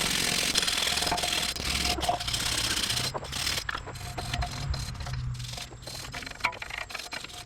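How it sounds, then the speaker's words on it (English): A wire brush scrubs rust off a car wheel hub during front brake work on a 1992-2001 Toyota Camry, giving close, rapid rattling scratches in uneven bursts and pauses over a faint background hum, with no talk. "I wire brushed it as well as I could"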